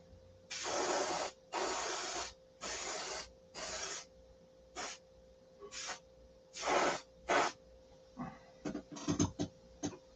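Orange spray paint hisses from an aerosol can onto wheel skirts in short bursts, about nine spurts of varying length separated by quiet pauses, with a few quick taps near the end.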